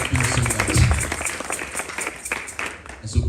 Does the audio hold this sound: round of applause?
yes